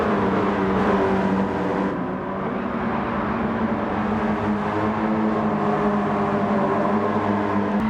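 Race cars, a Toyota GT86 and Subaru BRZ, in the Gran Turismo 7 video game roar steadily at close range through the whole stretch. The engine drone holds a constant pitch with no pauses.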